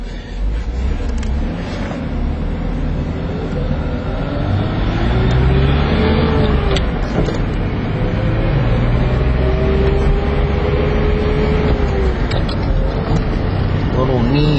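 A Datsun 280ZX Turbo with power steering drives down a street, its engine a steady close drone that rises and falls with shifts throughout, while someone talks over it.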